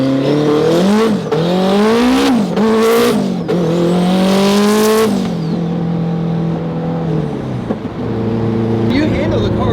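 A Spoon Sports Honda S2000's engine revs hard and swings up and down while tires squeal loudly through a drift, then the engine settles to a steadier drone.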